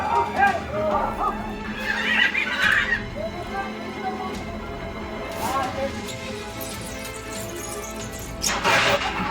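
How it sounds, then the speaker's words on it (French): Stressed horses tied on short ropes at a crowded market whinny and neigh in sharp bursts, with knocking and scuffling around them and people talking nearby. "Les chevaux sont ultra stressés, ils sont attachés super court."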